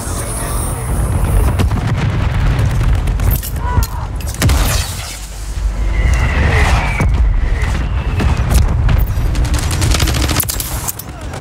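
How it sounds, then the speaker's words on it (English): Heavy mortar strike explosions and rolling battlefield gunfire in a military shooter game, dense and loud throughout with repeated booms and crackling bursts, no clear talk. "Friendly mortar strike on the way"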